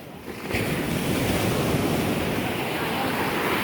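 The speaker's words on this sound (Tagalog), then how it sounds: "Ang lakas ng alon guys." Loud, steady roar of heavy sea waves crashing and churning close by at a beach, a dense wash of surf mixed with wind rumble; no speech.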